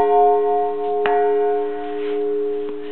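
A church bell in the Karlshamn church tower, the middle of its bells, rings with a steady sustained tone; one clear strike near the middle and a fainter one near the end sit over the lingering hum.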